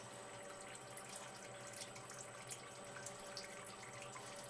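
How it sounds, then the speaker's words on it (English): Coconut oil streams from the opened spigot of a barrel into a bottle, making a steady, continuous trickling pour that runs at an even level throughout. "when you open the spigot, that oil actually flows out with some speed and it's more convenient to bottle"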